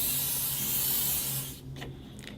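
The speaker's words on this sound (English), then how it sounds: "spray lubricant and just aim it at the guide rods" Lubricant sprays from a can onto the guide rods of a Smith machine or home gym, a steady loud hiss lasting about one and a half seconds before cutting off to a quiet background.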